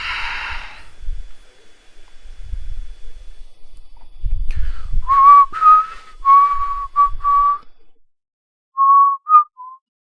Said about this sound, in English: I should not whistle